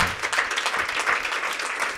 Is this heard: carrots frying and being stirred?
no